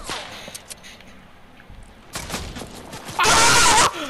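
Sniper rifle fire in a shooter video game: a couple of sharp cracks followed by a loud, harsh blast lasting under a second, over quiet background noise.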